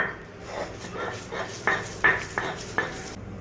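A mashed kalijira (black cumin) bharta is stirred together in a bowl, giving a series of clinking, scraping utensil knocks that sharpen into several louder taps near the end, with no voices.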